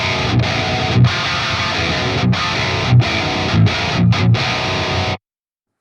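A heavily distorted electric guitar through a Fortin Nameless Suite X with presence set at 2 plays tight palm-muted chugs punctuated by accented chords, loud and close, then cuts to silence.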